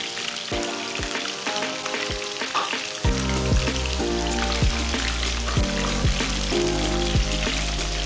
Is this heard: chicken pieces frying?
yes